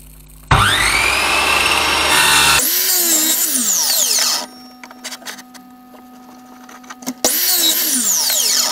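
A power saw cuts a wooden crossbar for a beach chair storage build, loud and close, with two long bursts of whining cutting that start and stop abruptly, separated by a quieter stretch of rattling and a steady motor hum.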